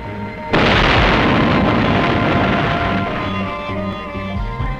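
A warhead detonates on the SNORT rocket sled test track, a sudden loud, close boom that swells into a long, roaring rumble and slowly fades across several seconds, with no voices.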